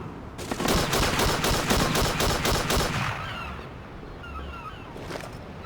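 Rapid automatic rifle fire in the World War II game H&D Deluxe, a loud sustained burst of shots for about three seconds, then dying away into lingering ambient game noise.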